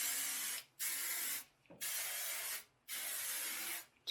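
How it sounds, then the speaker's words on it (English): Moroccanoil hairspray sprayed onto hair in four long bursts, each a steady close hiss of under a second, separated by short silent gaps. "I'll use this Moroccan oil hairspray."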